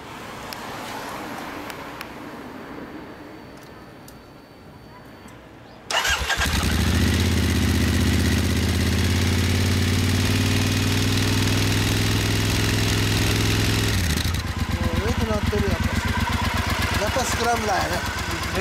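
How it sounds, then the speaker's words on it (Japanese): A 2015 Triumph Scrambler motorcycle engine starts up after a few seconds of quiet background at a riders' cafe and settles into a loud, steady idle, close by, then shifts near the end. "そのエンジンを聞かせてもらえますか。"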